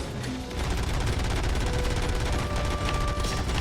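Rapid gunfire from a fight in the video game RoboCop: Rogue City, a loud, steady barrage of shots that fills the whole stretch with little letup.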